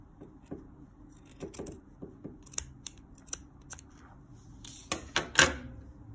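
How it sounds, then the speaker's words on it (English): Scissors snip fabric into strips about 3/8 inch wide for a pull-through scarf, giving a series of sharp, close cuts in an uneven rhythm that builds to a quick burst of snips near the end, with no voices. "I'm cutting these at about 3/8 of an inch."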